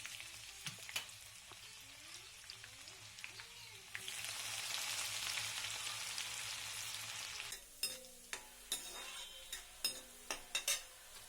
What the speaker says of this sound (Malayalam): എണ്ണ ചൂടായി വന്നപ്പോൾ കടുകിട്ടു കടുക് പൊട്ടി വന്നപ്പം അതിലേക്ക് അരിഞ്ഞ വെളുത്തുള്ളിയും ഇഞ്ചിയും ചേർത്തു